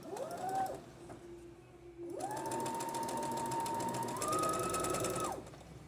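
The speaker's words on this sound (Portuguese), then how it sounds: "Começo a costura sempre com o retrocesso." Sewing machine joining dress fabric to lining, starting with a backstitch: a brief whir that rises in pitch, a short pause, then a long steady motor hum that steps up to a faster run before stopping, close and clear.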